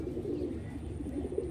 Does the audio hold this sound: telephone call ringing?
no